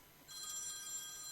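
Nokia ringtone played back on an iPhone, a short faint electronic ring tone that starts abruptly after a brief quiet moment and holds steadily.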